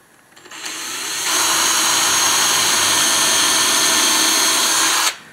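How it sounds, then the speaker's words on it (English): A power drill runs steadily for several seconds, driving screws into a wooden leg during a firewood box build, loud and close with a whirring motor and no talk. "I'm going to put some screws in this leg"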